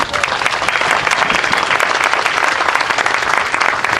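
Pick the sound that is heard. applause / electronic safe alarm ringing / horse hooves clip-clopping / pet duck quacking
applause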